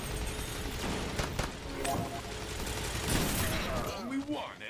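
SMG gunfire in the video game Destiny, rapid bursts of shots and impacts mixed with game effects, with a voice talking over part of it.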